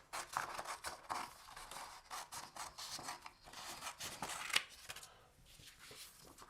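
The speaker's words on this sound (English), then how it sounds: "So we'll just cut off three pieces." Scissors snip through sheets of paper, several quick rasping cuts with soft rustling and handling in between, close and fairly quiet.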